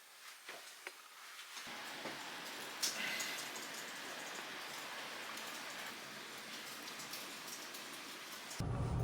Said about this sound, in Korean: 비가 금방 그칠 줄 알았는데 하루 종일 비가 오네요.